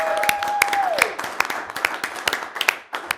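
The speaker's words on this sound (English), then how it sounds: "hopefully people at home will clap for you" A handful of people, about five, clap at a city council candidate forum, a sparse run of distinct, separate claps spaced through a few seconds, with a short electronic tone sliding down at the start.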